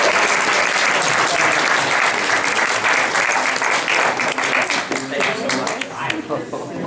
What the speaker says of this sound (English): Let's get Albie and Belkay a round of applause for this